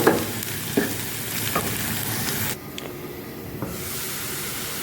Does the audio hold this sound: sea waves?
no